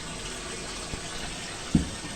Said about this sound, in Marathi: हा का नळ चालू ठेवलाय